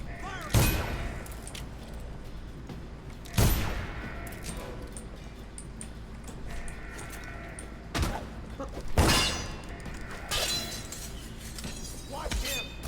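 Gunfire in the Dishonored video game rings out as several loud, sharp blasts spaced seconds apart, each with a bright crackling tail like shattering, amid background commotion and game voices.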